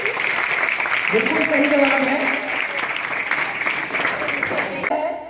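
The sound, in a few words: applause from an audience at a school quiz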